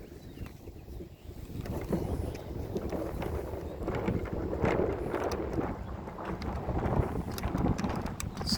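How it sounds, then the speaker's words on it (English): Wind buffets the microphone in low, rushing gusts, steady and fairly loud throughout, with faint scattered clicks and rustles outdoors. "It's windy all of a sudden."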